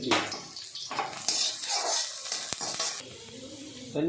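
Boiled vegetable water is poured into a hot pan, hissing and sizzling loudly before easing into a quieter simmer.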